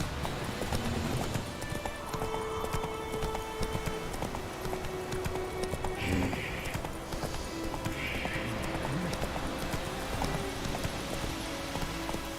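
Hooves of Roach, the horse in The Witcher 3 video game, clip-clop at a steady gallop for several seconds, a continuous rhythmic pounding with occasional faint game sounds mixed in.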